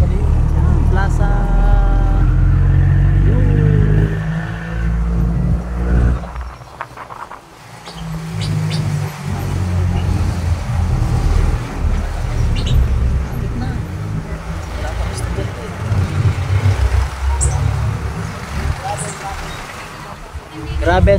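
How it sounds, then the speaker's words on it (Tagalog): Heavy Sunday road traffic on a town street under repair in Bauan, with car and truck engines rumbling steadily close by, some birds chirping, and a person talking over the continuous noise. "Grabe ang traffic."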